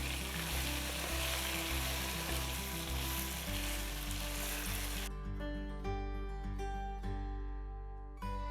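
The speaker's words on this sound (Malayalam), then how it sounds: "നമുക്ക് ജസ്റ്റ് ഇങ്ങനെ ഇളക്കി ഫ്രൈ ചെയ്ത് കൊടുക്കാം." Chicken frying on a hot tawa, street-style Hyderabadi fry, with a loud steady sizzle and periodic scraping as it is stirred; the sizzle continues alone and close throughout.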